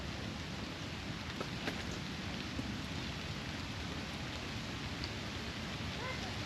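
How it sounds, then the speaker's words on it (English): Heavy rain pours continuously and evenly, a dense wash of drumming that fills the whole scene, heard from under a stone archway at ruins, with occasional faint louder drops. "It's raining really hard."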